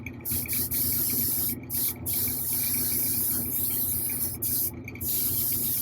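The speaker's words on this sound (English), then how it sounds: "we get my iWAD HPTH, the big spray gun. I'm just gonna kind of mist over the whole thing" Large spray gun misting paint over a 1/4-scale Hellboy figure during priming and red coats: a loud, steady airy hiss in long bursts, cut by a few brief pauses where the trigger is released.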